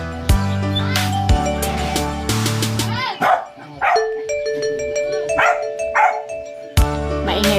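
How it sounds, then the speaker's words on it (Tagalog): A neighbours' dog barks repeatedly in short, loud bursts near a house, with irregular pauses between the barks. "Maingay po yung aso."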